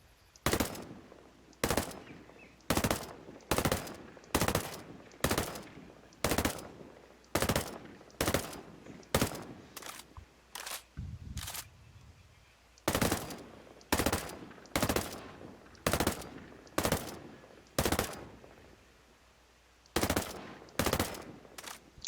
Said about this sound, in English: It's a little bit of a challenge to actually shoot unsuppressed now